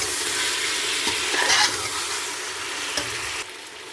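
Chicken being stirred into browned onions in a pot for white chicken yakhni pulao, a steady sizzle and frying hiss with a few scraping stir strokes, close and alone without voices.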